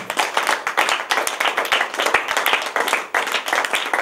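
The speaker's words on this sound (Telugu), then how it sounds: "clap clap" Rhythmic hand clapping from a group in a women's yoga camp class, fairly close and steady, with repeated quick claps in a regular beat and brief pauses between bursts.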